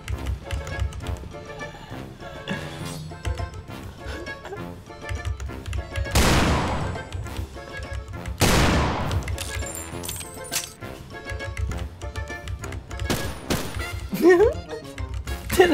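Gunfire in the shooter game Point Blank, including an AWP sniper rifle: sharp, loud shots and bursts crack repeatedly over a dense game soundtrack, with a few bigger blasts standing out, and a player talks throughout.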